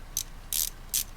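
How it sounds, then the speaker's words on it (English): A ratchet turning 10 mm valve cover bolts on a Toyota Matrix/Corolla 1ZZ-FE engine makes three quick, crisp bursts of metallic clicking, close and alone. "I'm gonna just use my ratchet."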